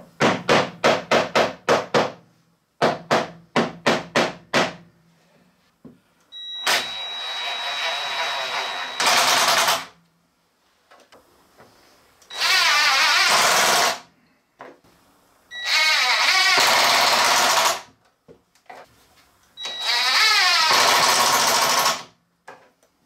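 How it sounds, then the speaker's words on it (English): Quick bursts of sharp hammer taps ring out while fixing wood for a microwave stand, followed by several longer stretches of whirring power-tool noise separated by short pauses. "So we're just going to hammer it in place"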